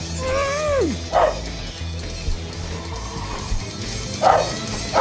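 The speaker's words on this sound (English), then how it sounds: "My dog's pissing me off so much right now." A pet dog barks and yips indoors, a few sharp barks near the start and again toward the end, with a brief whimpering whine at the beginning, over a steady low background hum.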